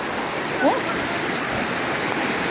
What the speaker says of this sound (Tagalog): Grabing baha Uy, nagbukal-bukal dito yung tawon.